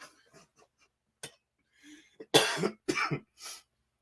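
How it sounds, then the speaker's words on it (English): Several harsh, close coughs break out in quick succession, preceded by some faint shuffling and a bit of throat noise. "Made me cough up a lung."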